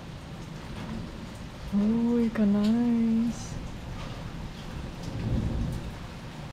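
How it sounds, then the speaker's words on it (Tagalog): Heavy rain pours steadily with thunder rumbling underneath, a dense continuous roar close by while someone talks briefly over it. "Grabe ka ulan, day."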